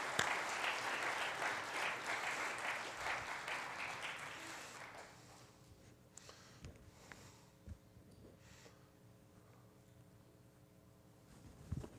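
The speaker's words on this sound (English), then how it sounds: "I think we can welcome him by clapping." A congregation at an Erev Shabbat service claps to welcome a guest pastor, about five seconds of dense applause that cuts off, leaving quiet room noise with faint shuffles.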